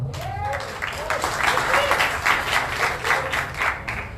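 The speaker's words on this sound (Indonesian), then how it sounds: "Kita beri tepuk tangan." An audience at an Indonesian political campaign team gathering claps steadily for an introduced dignitary, a moderate wash of applause with a voice speaking over it.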